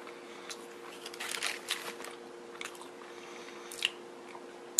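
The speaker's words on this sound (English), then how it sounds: "I'm going to take one more bite." Close, soft chewing of a bite of a Burger King breakfast ciabatta club sandwich, with irregular moist squishes and light crunches over a steady background hum, no speech.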